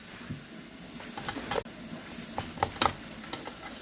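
Pork cooking under pressure in a barbecue pot, a steady close hiss and sizzle with scattered crackles and pops throughout.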